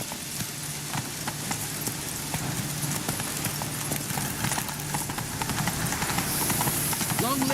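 Hoofbeats of Roach the horse clip-clopping steadily in The Witcher 3, a continuous rhythmic gallop under a dense game soundscape with ambient rain-like noise.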